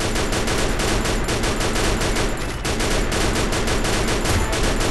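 Dense, continuous gunfire from the Free Fire battle royale game, with rapid automatic bursts layered into a loud, unbroken fusillade that barely pauses for five seconds.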